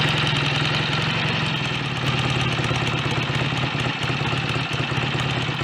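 BSA A65 motorcycle engine idling close by, a steady, loud ticking-over rumble with an even, rapid pulsing beat and no pauses.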